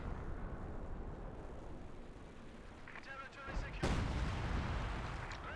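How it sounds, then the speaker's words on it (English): An artillery barrage striking a base in the Company of Heroes 2 strategy game: a low rumble of battle noise, then a sudden sharp, heavy impact that rolls on with a loud, rumbling tail. "Another barrage into the base here."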